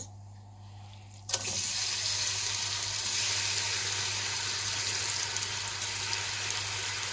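Onions dropped into half a cup of hot oil in a pan for beef karahi, an abrupt burst of loud, steady hissing and sizzling that carries on evenly after a quiet start.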